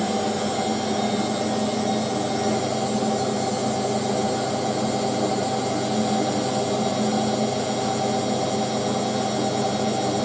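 Two Hotpoint 9530 Electronic 1000 washing machines, models 9530A and 9530W, spin side by side in a steady, loud, continuous whirring hum with a constant drone and no voices.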